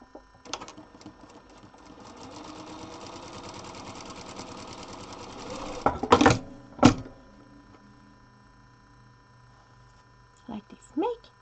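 A sewing machine runs steadily for several seconds, stitching quilt block pieces together, then stops with a few loud knocks and clunks before a short voice is heard near the end.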